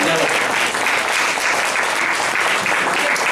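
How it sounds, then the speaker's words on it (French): An audience applauds loudly after an interview at a commemorative evening event, producing a dense, continuous roar of clapping that stays steady and full throughout. "On peut l'applaudir très bien fort."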